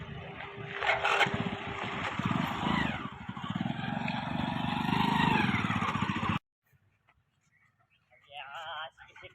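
A motorcycle engine drones and revs close by for several seconds with a voice over it, then cuts off, leaving near silence and a brief voice.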